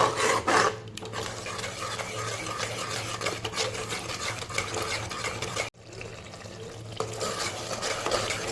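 Yogurt is stirred in a pot over a low gas flame, giving a steady scraping, swishing rhythm that runs continuously and close up, with a brief pause partway through and no talking.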